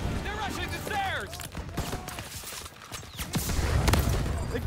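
Bursts of rifle and machine-gun fire crackle in a World War II battle in the Call of Duty: WWII campaign, with repeated sharp shots scattered throughout, some near and loud, and shouted voices over the fighting.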